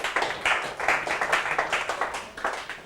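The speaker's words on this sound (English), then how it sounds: "Give her a clap." A Grade 11 mathematics class claps for a student who solved a bearings problem: a small group's rhythmic, evenly paced handclaps, close and crisp, beating steadily for about three seconds with no talk.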